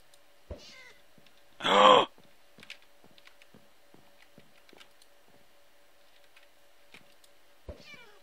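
A cat meows once, a loud, brief call in a Minecraft game, set against faint ticking and clicking game noises, with a few short taps scattered before and after.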